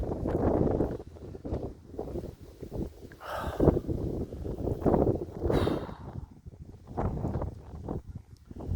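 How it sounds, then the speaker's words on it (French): Strong headwind buffets the microphone in a steady low roar with gusts, with a voice speaking intermittently over it. "C'est le vent. Le vent de face."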